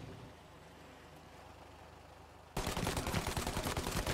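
Enemy gunfire in Mafia: Definitive Edition during a night hearse run, a sudden loud burst of rapid, repeated shots that cuts in after a quieter stretch and keeps going close and dense.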